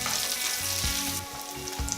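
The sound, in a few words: bacon frying to a crispy crust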